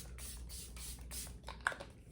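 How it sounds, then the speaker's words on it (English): Setting spray misted onto a face at the end of a makeup routine, heard as several soft, airy hissing bursts in quick succession, close and fairly quiet. "Get last setting spray and locking all this in."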